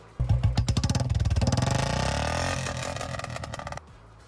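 A Royal Enfield Bullet fitted with an aftermarket silencer fires off a rapid run of sharp exhaust pops and crackles as the engine revs, loud and close, then cuts off abruptly near the end.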